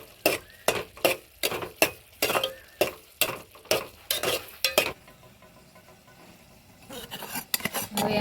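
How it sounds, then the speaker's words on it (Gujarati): Bottle gourd curry with turmeric and sugar stirred in a pan, heard as a quick run of loud, rhythmic scraping strokes. After the strokes a soft sizzle carries on, and a few more scrapes return at the end. "પછી હલાઈ નાખશું આપણે."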